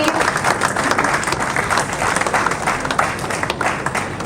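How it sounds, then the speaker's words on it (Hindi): Audience at an environmental award ceremony at a university claps loudly and continuously, a dense, even burst of many hands with a faint crowd murmur underneath. "जोरदार तालियों से उनका उत्साहवर्धन करते रहिए।"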